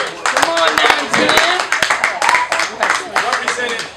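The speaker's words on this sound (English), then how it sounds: "I want to just definitely clap it up for the 9-10 boys" An audience at a high school track awards night clapping for the 9-10 boys, a close burst of hand claps mixed with people talking throughout.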